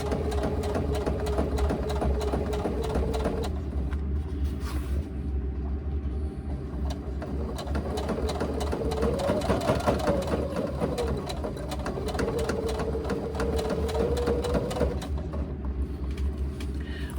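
Basting stitches run along the edges of a laptop bag on a sewing machine, a continuous close mechanical whir with rapid ticking and a low motor hum throughout, no voices present.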